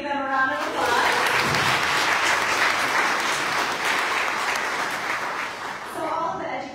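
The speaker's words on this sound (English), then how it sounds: "Let's give them a round of applause." An audience at a Clear Lake, Iowa Chamber of Commerce coffee event claps in sustained, dense applause for several seconds, fading slightly near the end as a voice returns.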